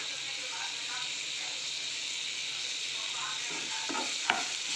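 Masala frying in a pan for vermicelli, a steady soft sizzle and hiss under faint background, with a few scraping stirs and one sharp clink near the end.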